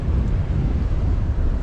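Wind gusts buffet a fishing boat out on the water in the Florida Keys, a steady, loud low rush of blustery air with no voices.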